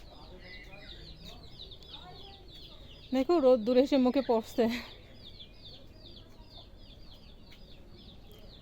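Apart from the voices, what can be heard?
chickens clucking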